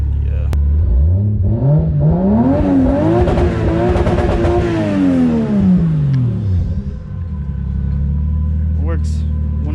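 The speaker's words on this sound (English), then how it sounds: "Will it get louder if you rev it?" A car engine revs up from idle, climbing to a loud, sustained roar for several seconds before falling back to a rumbling idle, with a brief voice at the end.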